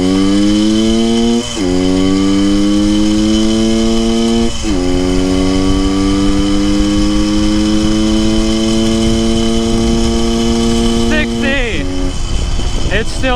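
A 1974 Honda MT250 motorcycle engine, still needing tuning and bogging slightly, runs loud and close after starting, holding a steady buzzing idle broken by a few quick revs and dips.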